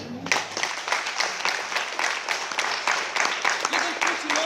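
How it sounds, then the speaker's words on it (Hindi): An audience at a business meeting claps steadily for several seconds, with individual claps audible in a moderately loud, fairly even stream. "खुद के लिए एक बार ताली बजा दीजिए।"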